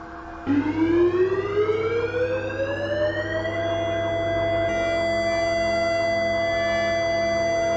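Civil defense sirens in Samsun sounding at 9:05 for the Atatürk remembrance moment of silence on 10 November, starting abruptly and rising in a long wail to a loud, steady held tone with layered sirens.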